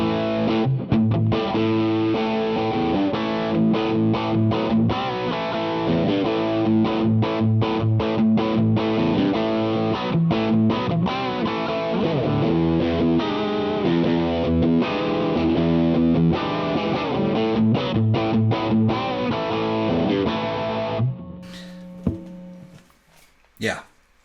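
An electric guitar plays rhythmic chords and stabs through a True North Pedals Tweed Drive overdrive pedal, crunchy and sustained for about twenty seconds before stopping abruptly with a few faint noises after.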